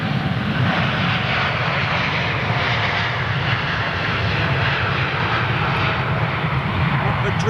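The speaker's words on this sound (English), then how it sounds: "look at that early departure for a 787" A Boeing 787 jet departs Heathrow Airport with a steady, loud, continuous engine roar that holds level throughout, while people talk over it.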